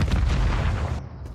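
A grenade explodes in Call of Duty MW3, a loud, close boom with a rumbling low-end tail that cuts off abruptly after about a second.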